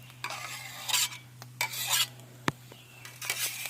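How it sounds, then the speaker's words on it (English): Metal spatula scraping cooked eggs across a Blackstone griddle, several loud rasping strokes in bursts with a sharp clank midway, over a steady low hum. "Scrape the eggs off there."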